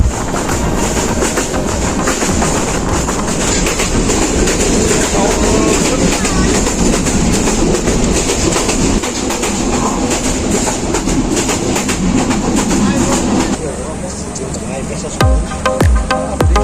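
A train rumbles continuously along the rails with a loud, steady roar and rattling clatter, then slows near the end as voices speak close by.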